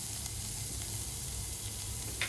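Chopped onion, ginger and garlic sauté in hot oil over medium flame for a chicken curry, a steady, close, even hiss of frying with a faint low hum and one brief scrape near the end.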